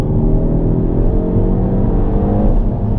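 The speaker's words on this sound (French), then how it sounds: "à partir de 4000, le moteur, il est quand même vachement plaisant" A Peugeot 308 GTI 270 hp engine revs hard and steadily, a loud, close, continuous drone with a rising harmonic whine held for the full few seconds and no talking.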